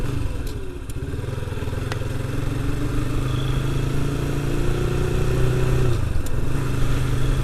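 Carbureted Honda CBR motorcycle being ridden, a loud steady engine drone with its pitch rising slowly, then dropping on a gear change, heard close from the rider's position with no talk.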